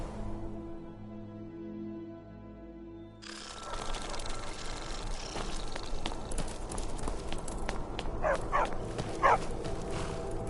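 A war dog barks in the video game Skyrim, its short barks rising over a busy game soundscape with footsteps and clatter after a stretch of music.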